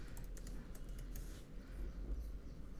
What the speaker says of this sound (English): Let me type some text here.